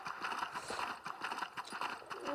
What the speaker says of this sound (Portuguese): Eu sou muito bom de andar de cavalo.